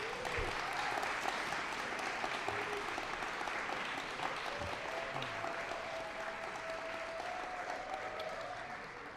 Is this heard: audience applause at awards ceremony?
yes